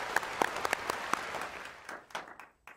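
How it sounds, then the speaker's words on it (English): A small group applauds in a talk setting, with a handful of distinct, close claps that thin out and fade toward the end. "we really want to give your whole family, you know, a round of applause"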